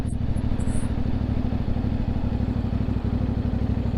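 NK400 big bike motorcycle engine running with a loud, steady, rapid low-pitched chugging and some clatter, close by, with a couple of faint high chirps early on and no voices.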